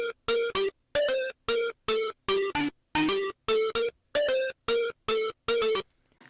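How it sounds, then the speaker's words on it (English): Gravity synth lead from the Silence pack, dry with no effects, for hardstyle in FL Studio: a bright, buzzy lead playing a choppy melody of short staccato notes in a steady rhythm, with brief silences between phrases. "I have the Gravity lead from my Silence pack, and it sounds like this by itself."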